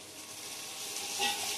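Chopped tomatoes hit frying onion and garlic in a pan for rui fish-head moong dal, giving a short, steady hiss of sizzling steam that swells slightly at the end.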